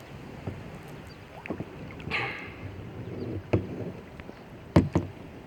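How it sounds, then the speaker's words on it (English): A canoe on a windy river, paddled by one person, gives irregular knocks and water splashes against the hull over steady wind noise, with a couple of sharp thumps near the end. "yes, I'm in my canoe by myself. The wind is blowing me to the edge"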